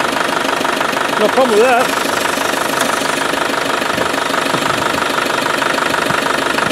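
A Spanish 110 vehicle's engine idles steadily with its pump working, giving a continuous low, even drone close by while someone talks over it.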